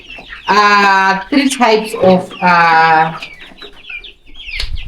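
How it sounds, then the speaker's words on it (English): Chickens cluck in a village yard, including white Sussex hens among three breeds; loud, close bursts of clucking come in two main runs, with a person speaking nearby. "There are 3 types of chickens."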